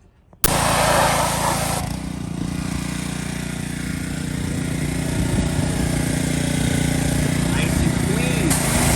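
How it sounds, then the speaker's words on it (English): A pressure washer starts abruptly and runs continuously, a loud, close motor drone with hissing spray, as it cleans the underside and oil pan of a Toyota MR2. "next up be pressure washing the underside"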